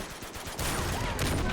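Explosive tanks shot and bursting in a video game, a quick crackle of gunfire followed by a loud, sustained explosive blast.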